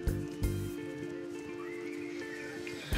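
Horses gallop and whinny in the Star Stable Online video game, with steady hoofbeats, a loud neigh near the start and a continuous in-game music bed underneath.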